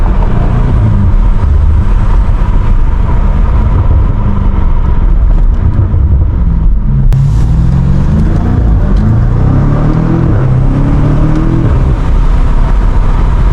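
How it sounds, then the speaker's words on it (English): BMW M5 Competition engine burbling and popping while driving on backroads, a loud, close, continuous rumble with a pitch rise and crackles partway through. "The burbles on this car are fucking amazing, bro."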